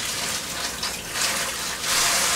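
Water runs steadily from a kitchen tap during rinsing while stuffing is being made, a loud close hiss that swells slightly near the end.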